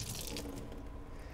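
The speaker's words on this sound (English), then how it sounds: "I'm just gonna rinse it under some water," Water runs from a kitchen tap onto a paper towel, a soft steady splashing hiss heard alone at close range for a brief moment.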